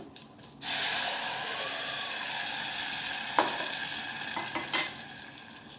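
Steady, loud sizzling of food frying in a hot pan, with a few sharper bursts of spattering along the way.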